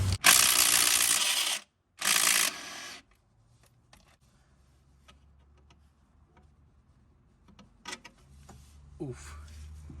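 Bolt being loosened under a Honda Civic with a D15B engine during engine removal: two loud bursts of ratcheting at the start, then quiet with scattered metallic clicks and clanks.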